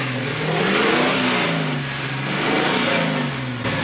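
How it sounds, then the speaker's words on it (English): An LS-swapped Holden VH Commodore with a running fault revs up and down in two rising and falling swells, close and loud, with rough pulsing in the exhaust note and no speech. "If I accelerate, it just bulks down and starts to backfire."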